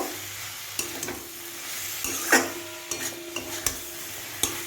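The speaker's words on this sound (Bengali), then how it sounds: "এই মশলাটা দিয়েও ভেন্ডিটাকে একটু ভালো করে মিশিয়ে নেব।" Okra (bhindi) is stirred with spice masala in a pan over medium-low flame, producing a low sizzle with scattered spatula scrapes and metallic taps against the pan.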